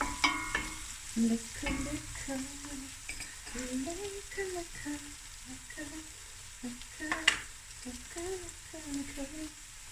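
Cumin sizzles in a pot with garlic and ginger for lamb akhni, a soft continuous frying hiss with occasional stirring scrapes, heard under a person talking.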